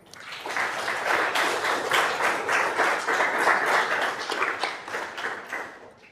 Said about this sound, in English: let's give a big round of applause for both of them